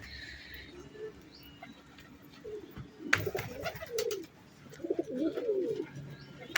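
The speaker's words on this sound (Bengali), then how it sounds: "দেখো কি সুন্দর, আমার খুব ভালো লাগে এই পায়রাগুলোকে" Pigeons cooing close by in a quiet setting, soft low throaty coos in a couple of bursts, the second longer and more rhythmic, with a few brief rustles and taps of movement in between.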